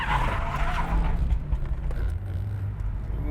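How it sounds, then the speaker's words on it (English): A car drifting between two objects: engine revving hard in first gear while tyres skid and squeal under braking and handbrake, loud and close, with a steady rumbling roar throughout. "Braking and handbrake. First gear, rev it."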